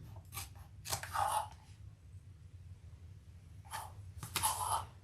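Scissors trim fabric for a sewn handbag in two brief clusters of crisp snips, close and clear, separated by a quiet pause.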